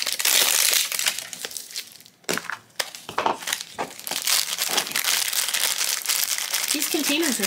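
Crinkly plastic wrapping of a Candy Pop collectible figure package being torn and crumpled open, loud and close with brief pauses, under a voice talking.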